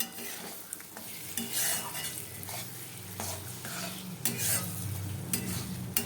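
Spice paste sautéing in a pan for a Bengali kata chorchori with fish, the oil already separating; a steady sizzle runs throughout under frequent scraping stirs of a spoon against the pan, close and moderately loud.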